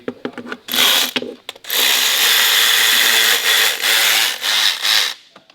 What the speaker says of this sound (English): Tightening the timing cover. It's getting tightened down with a new gasket.